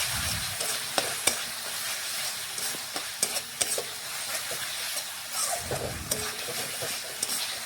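Spice masala, seasoned with salt, fries in oil in a pan for a mutton curry, with a steady low sizzle broken by sharp stirring clacks and scrapes at uneven intervals, close and with no voices.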